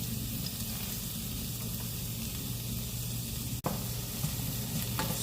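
Curry leaves, garlic and two dried chillies fry in hot oil for a brinjal and drumstick kara kuzhambu, giving a steady close sizzle throughout with one brief clatter near the end.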